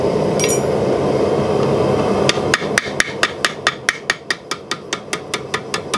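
A blacksmith's hammer strikes hot iron while forging a bottle opener, knocking off scale: a steady run of about fifteen light, ringing metallic taps at a quickening even rhythm, close and clear over a roaring forge-fire background.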